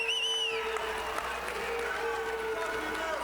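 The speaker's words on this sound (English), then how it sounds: "And the crowd on their feet here in Los Angeles" Arena crowd at a Los Angeles boxing match between Brian Jones and Alejandro Reyes, roaring steadily on their feet at the final bell, a dense continuous wash of cheering beneath a commentator's voice.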